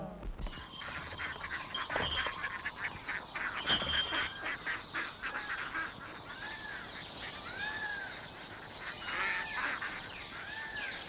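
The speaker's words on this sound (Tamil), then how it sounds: "இது வாத்து கூட்டம்" A flock of ducks or geese honks and quacks in a dense, continuous outdoor chorus, with overlapping calls at moderate loudness throughout.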